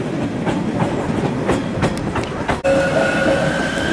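A train rumbles past in Basel railway station with rhythmic clatter of wheels, a brief dip, then a steady high whine and hiss of rail noise, close and loud.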